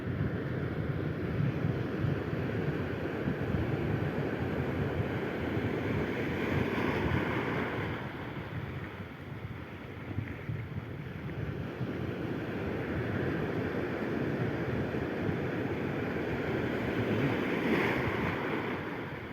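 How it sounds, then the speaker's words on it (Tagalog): Steady roar of ocean surf with large waves breaking continuously, heavy wind buffeting the microphone throughout; no voices. "Malalaki ang alon."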